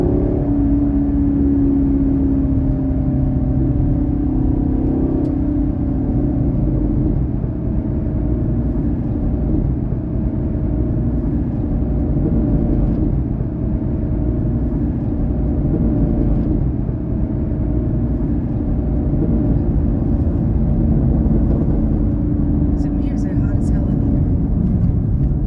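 Steady engine rumble and road roar from a 2022 Camaro SS 1LE cruising a parade lap at Daytona raceway, a constant interior drone with no sharp revving, under intermittent talk.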